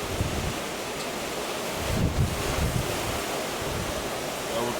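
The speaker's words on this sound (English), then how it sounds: "the rain is so heavy" Heavy rain pours down in Benin City as a dense, steady roar of broadband noise, constant and enveloping with slight gusty swells, and no voices over it.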